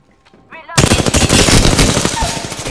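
After a quiet moment, dense rapid automatic gunfire erupts in the video game Apex Legends. It stays loud and close as a sustained stream of shots until the end.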